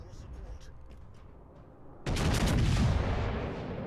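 The guns of the Azur Lane New Jersey battleship in World of Warships: Legends fire a single sudden, loud blast that rolls and slowly fades, after a quieter stretch with a voice talking.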